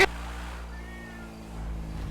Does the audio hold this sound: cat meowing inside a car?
yes